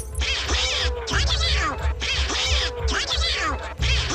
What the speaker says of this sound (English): This would never have happened if you had the Donald Duck car alarm.